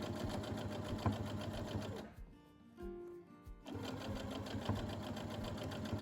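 A sewing machine stitching bias binding onto quilted fabric runs in a fast, loud mechanical chatter, pauses for about a second and a half with faint ticks, then resumes its rapid stitching.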